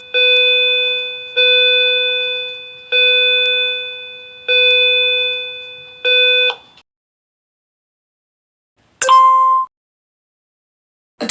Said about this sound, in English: Someone pulled a fire alarm